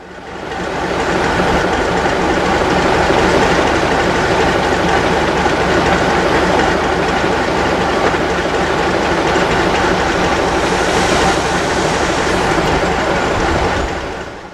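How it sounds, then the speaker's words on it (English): Trains arriving at Midwest Central's South Station during Old Threshers 2021 in Mount Pleasant, Iowa, make a loud, steady rumble with rhythmic clickety-clack of wheels over rail joints, swelling close by and fading at the end. "we see the trains arriving at Midwest Central's South Station on the other end of the line"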